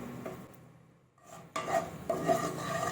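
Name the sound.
stirring whole spices frying in fish oil in a pan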